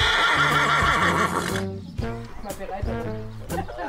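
A horse neighs loudly and close, a long whinny, followed by hoof clip-clop and snorting, with a voice talking over part of it.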